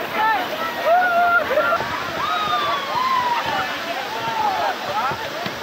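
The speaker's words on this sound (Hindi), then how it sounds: "यही वो वाटरफॉल का ऊपरी हिस्सा है।" At the upper part of Kondi waterfall near Alibag, water rushes in a steady, moderate wash while chirping calls and people talking sit on top of it.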